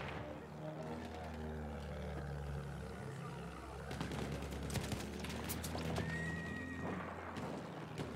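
Horse neighing and whinnying in Battlefield 1, long wavering calls repeated over clip-clopping hooves, with distant gunfire and aircraft noise and someone talking at times.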